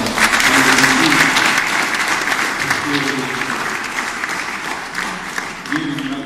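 Applause for a gymnastics team at a club presentation, a loud, sustained wash of hand clapping from a crowd that keeps going, with voices audible beneath it.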